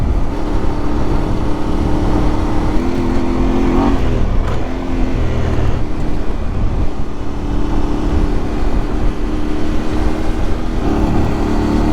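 A motorcycle engine drones steadily and loudly while riding a provincial road, with the pitch shifting slightly as the rider changes speed and a constant rush of wind.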